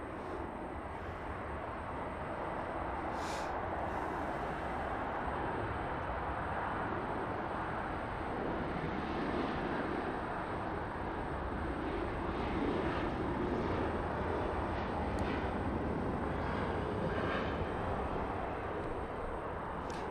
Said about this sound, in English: There goes American Airlines 737